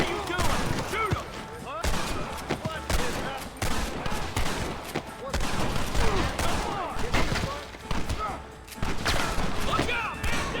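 Dense gunfire from the Red Dead Redemption video game, rapid overlapping shots and volleys in a loud fusillade, with voices shouting under the shooting.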